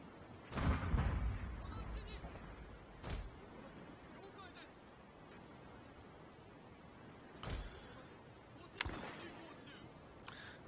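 Ship cannon fire in Total War: Shogun 2 sounds as several separate booming blasts spread across a quiet naval battle, one early and heavier, others later and sharper, moderately distant.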